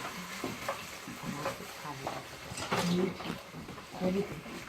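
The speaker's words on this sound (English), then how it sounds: "And we'll just whisk away. So we're just going to scramble it up." Eggs whisked in a bowl for scrambling into fried rice, a light, irregular scraping and clicking that runs steadily beneath a person talking in a home kitchen.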